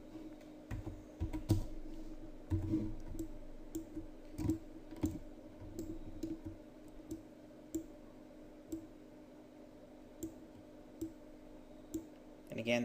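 Scattered keystrokes and mouse clicks on a computer keyboard, quiet and close, tapping in irregular short bursts beneath a steady low electrical hum, while someone talks.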